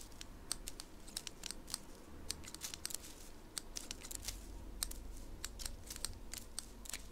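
Rapid, irregular snipping clicks of scissors cutting hemp in Life is Strange 2, repeated crisply over a steady low background hum, with no voices.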